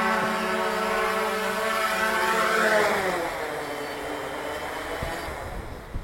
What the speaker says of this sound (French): Et pour le faire atterrir, on descend le bouton.